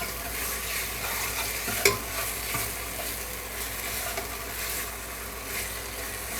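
Masala stir-fried in a pan for a potato pakora curry, a steady close sizzle with faint stirring scrapes and one sharp clink of the spoon early on, no voices.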